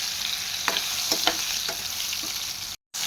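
Tomatoes fry in hot oil, a bright continuous sizzle with a few spatula scrapes, cut by a brief silent gap near the end.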